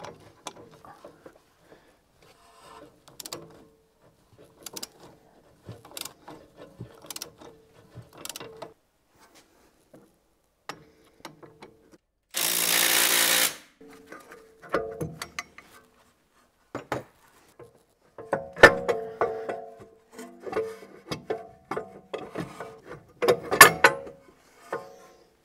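A ratchet loosens a bolt on the suspension of a Volvo V90CC, giving quiet intermittent clicking bursts with a brief louder rasping burst midway and further metallic clicks near the end.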